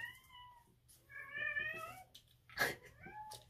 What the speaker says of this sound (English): Then my cat wants to act out.